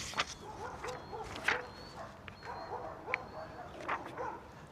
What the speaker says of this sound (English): an eruption of dogs across the street